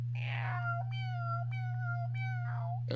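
A voice imitates a pet cat meowing, several drawn-out, clear meows one after another close to the mic over a steady low hum.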